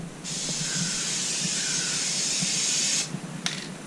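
Rust-Oleum spray paint hisses from a can in one steady burst of about three seconds, close and fairly loud, followed by a couple of short sputtering puffs.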